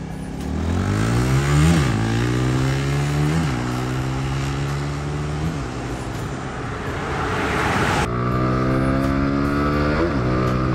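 A Honda Winner X motorcycle brakes hard from 80, its engine note dropping in stepped downshifts with rising blips, close and fairly loud over road and wind noise.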